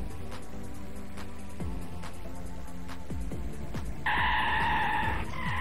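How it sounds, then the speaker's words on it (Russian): A tuned VAZ-2101 Kopeyka races in a driving game, its engine pitch climbing and dropping through repeated revs and gear changes. A bright tire squeal cuts in near the end, loud and close. "Напоминаю, мы едем на прокачанном ВАЗ-2101 копейка."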